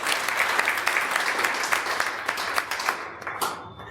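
An audience at a Vedic spiritual gathering gives warm applause welcoming Manoj ji, dense clapping from many hands that holds steady, then thins out and stops near the end.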